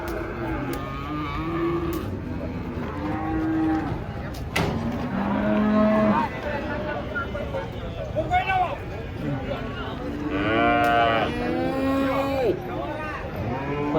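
Several cattle moo repeatedly as a herd unloads from a truck, some close and some farther off, long drawn-out calls overlapping amid background voices and outdoor noise.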